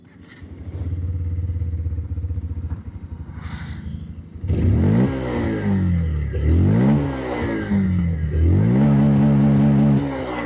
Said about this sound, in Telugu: ఒకసారి అయితే మనం దీని యొక్క ఎగ్జాస్ట్ సౌండ్ అయితే విందాం